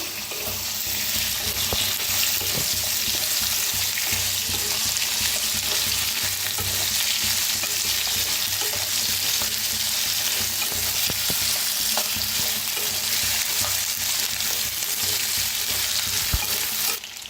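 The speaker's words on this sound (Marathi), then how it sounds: "तर बटाटोला चांगलं फ्राय करून घेऊया।" Potatoes frying in a kadhai with cumin and asafoetida: a loud, dense, steady sizzle and crackle that runs unbroken, close up, with faint stirring noises underneath.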